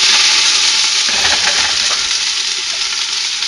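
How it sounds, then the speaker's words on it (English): Root vegetables hit a hot pan for a chowder, giving a loud, steady sizzle and crackle that fills the whole stretch without a break, with faint stirring underneath and no voices. "So when you add your vegetables, you're going to hear the sizzle."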